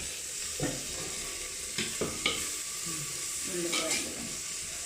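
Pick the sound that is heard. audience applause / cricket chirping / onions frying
onions frying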